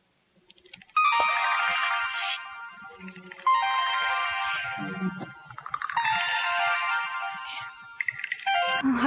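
A mobile phone rings with a loud, close melodic ringtone that repeats in several bursts, with no talk over it.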